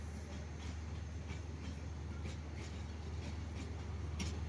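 A long train with eighteen coaches rolls past in Bangladesh, a steady faint rumble with a low hum and soft rhythmic wheel clatter throughout, heard from a distance.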